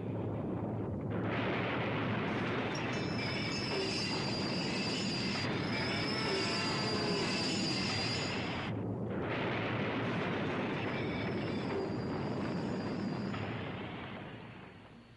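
A train runs along mountain tracks in a loud, continuous rumble with rattling wheels and squealing metal, briefly dipping before rolling on and fading out at the end.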